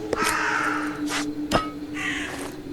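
Crows caw in the zombie survival game Echoes of the Living: three harsh caws spread across a couple of seconds, fairly loud and near, with a sharp metallic ping between them and no talk.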